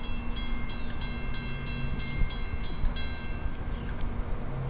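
A New Jersey Transit train passing on the Conrail Lehigh Line, a steady rolling rumble of wheels and cars with faint rhythmic clicks over the rails, heard from a moderate distance.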